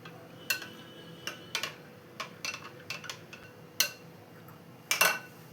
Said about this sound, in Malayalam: ഇനി ഇതും കൂടെ ഒന്ന് മിക്സ് ചെയ്ത് കൊടുക്കാം.